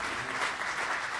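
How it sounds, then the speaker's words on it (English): A keynote audience applauds a speaker taking the stage, steady dense clapping filling the whole moment at an even, moderately loud level. "please give her a round of applause"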